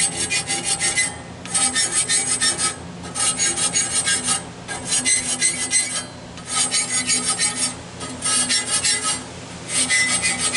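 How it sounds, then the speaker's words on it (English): A file back-files the teeth of a saw blade in repeated raspy strokes, about seven even passes with brief pauses between them, steady and close. "I just need to back file them."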